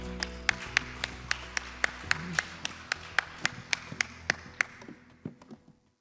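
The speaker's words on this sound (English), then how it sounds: "Let's give him a round of applause." At a business gathering in Singapore, an audience applauds a speaker: a string of sharp, regular claps sits close over a low hum, then thins into a few scattered claps and fades out.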